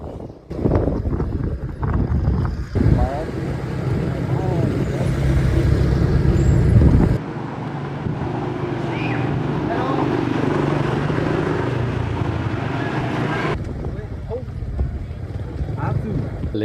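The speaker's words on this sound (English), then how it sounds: "we decided to explore the rice paddies on a scooter" A scooter's engine hums steadily with wind buffeting the microphone while riding through rice paddies in the Vietnamese countryside, loud at first and then easing to a quieter drone, with voices talking over it.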